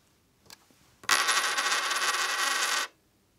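Battery ring being screwed tight on a Sony PXW-X70 camcorder: a couple of faint clicks, then a steady close-up grinding, ratcheting rasp lasting under two seconds before stopping abruptly.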